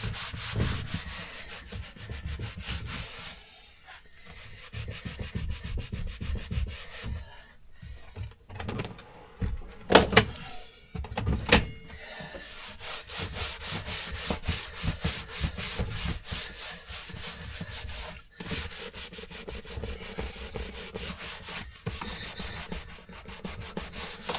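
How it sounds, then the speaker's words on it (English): Old Suzuki Samurai seats are scrubbed to lift off built-up crust in a shop, giving a steady, close rubbing and scraping that runs throughout, with a few sharper louder strokes partway through. "I'll get the majority of the crust off"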